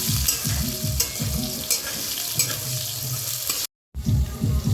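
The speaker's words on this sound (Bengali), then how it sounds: "মোচার মধ্যে একটু আলু দেবো আলুটা ভেজে নেব" Potatoes fry and get stirred in hot oil, a dense close sizzle broken by rhythmic scraping and clattering strokes, then a brief cut to silence before the sizzling resumes, with no voices.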